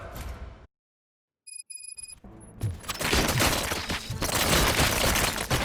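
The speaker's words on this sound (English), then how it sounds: "Gunshots? What's going on?" Gunfire and impacts erupt in the video game Robocop: Rogue City after a brief silence and a few electronic beeps, building into a dense, loud barrage of shots and crashes.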